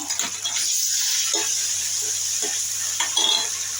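Ginger paste and cumin frying in a pan with whole spices for a chicken roast, a close, steady bright sizzle with a few soft scraping stirs, no talking.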